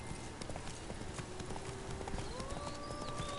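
Roach, Geralt's horse in The Witcher 3, gallops in a steady run of game hoofbeats over a constant background bed, with a thin rising tone joining near the end.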